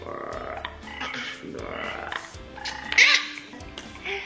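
A voice imitates a frog's croak at home, giving a short burst of croaking sounds among other vocal noises and light household background.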